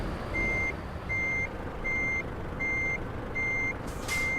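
A truck in the Euro Truck Simulator 2 game backs up with a trailer, its reversing alarm beeping six times in an even rhythm over a steady low engine rumble, ending with a short hiss.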